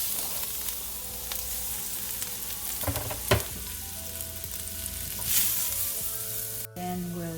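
Garlic sizzles steadily in a hot pan while pad thai is cooked, a continuous close frying hiss broken by a few brief clatters and stirring scrapes, with no talking.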